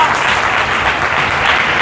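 An audience claps together in a hall during a sermon, a continuous, fairly loud patter of many hands that stays even from start to finish, with some voices faintly mixed in.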